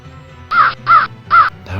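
Three loud, harsh crow caws in an even rhythm, each about a quarter second long, close by and set against quiet background, with the start of a fourth call at the end.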